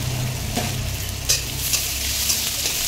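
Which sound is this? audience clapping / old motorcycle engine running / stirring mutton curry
stirring mutton curry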